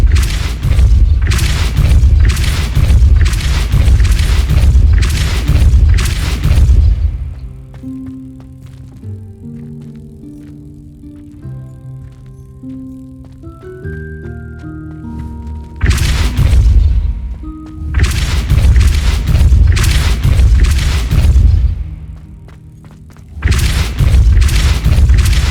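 Spell-casting blasts from the Hogwarts Legacy video game come as loud, dense bursts of rapid booming impacts in two long volleys, separated by a quieter stretch of melodic game music and chimes.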